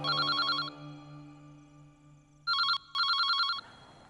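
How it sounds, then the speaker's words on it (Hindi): An electronic telephone rings in trilling bursts, one ring, a pause, then two more rings close together, loud and clear. "मिस्टर माथुर, इस बार आप फोन उठाएंगे।"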